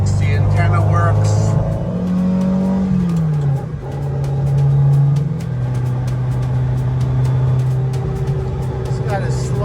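A 1981 Ferrari 308 GT4 Dino with a sport exhaust drones steadily from inside the cabin on the road, its engine note rising and shifting pitch as it accelerates, with a faint resonance and continuous road noise.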